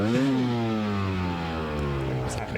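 An off-road motorcycle engine revs up briefly, then holds a steady mid-pitched drone that sags slightly in pitch as it runs, loud and close in an outdoor trail setting.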